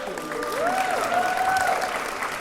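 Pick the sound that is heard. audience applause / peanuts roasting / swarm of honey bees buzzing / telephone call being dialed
audience applause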